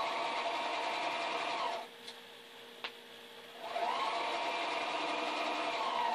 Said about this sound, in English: We're going to start at this end, and we're going to sew,